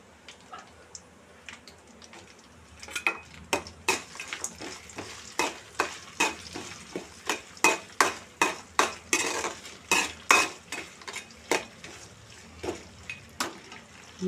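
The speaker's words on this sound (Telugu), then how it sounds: "జీడిపప్పు వేసుకొని ఇలా ఫ్రై చేసుకోవాలి." Cashew nuts fry in a pan for a spiced rice dish, with quiet sizzling under a run of sharp, regular clinks and scrapes as a spoon stirs against the metal, close and fairly loud, with no talking.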